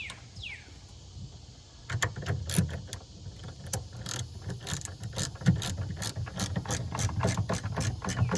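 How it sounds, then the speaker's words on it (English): A hand ratchet clicks in quick repeated bursts while tightening a nut on a Mercury 15-20 HP outboard tiller handle, close and crisp, with brief pauses between strokes and no talking. "We're gonna tighten this nut back up here."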